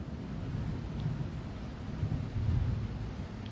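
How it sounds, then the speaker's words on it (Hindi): Rumbling thunder rolls from storm clouds under a tornado warning while light rain patters steadily, a low, continuous, distant-sounding roar with soft swells and no talking. "बादलों की आवाज़ सुनो तुसी"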